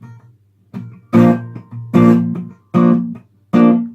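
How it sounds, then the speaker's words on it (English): Acoustic guitar strummed in a short pattern from a song: several loud percussive chord strokes with muted, choppy dead-strum attacks between, played close and alone. "these dead strums and 1 normal strum for the first 2 chords"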